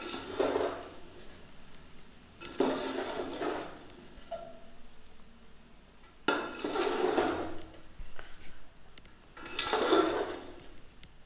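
A spatula scrapes and clatters against a pan while vegetable fried rice is stirred, in four separate rhythmic bursts with short pauses between them. Heard up close, with no voices.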